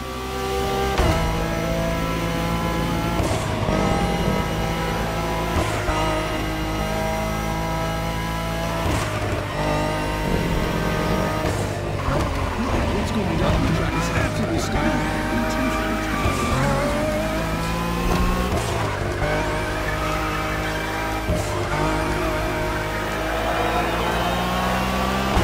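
Acura NSX GT3 race cars in a touring event in The Crew Motorfest, engines revving hard and rising through gears in repeated sweeps, with tire squeal and skids, loud and continuous without talk.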